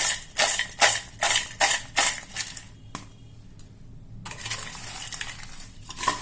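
Bhindi 65 (fried okra) tossed in a bowl to coat with chaat masala gives about six quick, rhythmic rattling scrapes close by, then a pause and a quieter, continuous shuffling, with no talking.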